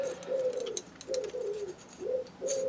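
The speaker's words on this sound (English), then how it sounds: "the pigeons are back out" Pigeons coo outdoors in three or four soft, low repeated phrases, each a rolling throaty call with short pauses between, faint clicks and ambient noise around them.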